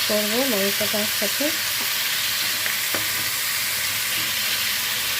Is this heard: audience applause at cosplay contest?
no